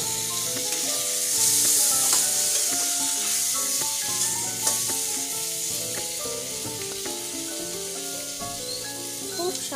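Chopped tomato hits hot oil in a frying pan and sizzles steadily, a bright hiss with some stirring, heard under a music track playing throughout.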